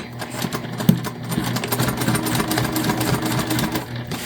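A sewing machine runs steadily, stitching a large bag, with a continuous close mechanical whir and rapid needle rhythm and no talk.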